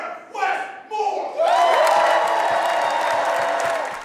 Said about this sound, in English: Following the cheers, applause